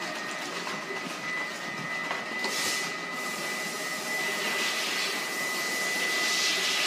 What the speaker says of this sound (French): on va passer les flacons dans la machine